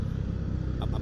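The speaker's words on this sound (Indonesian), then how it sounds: "Royal Enfield emang suaranya gigi banget." A Royal Enfield motorcycle riding at night between Jakarta and Depok, a low steady engine rumble close by for about a second, with a brief brighter tone near the end.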